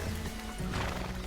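Horse hooves clip-clop steadily alongside a whinny in the video game Red Dead Redemption, close and continuous, with a busy background wash of noise.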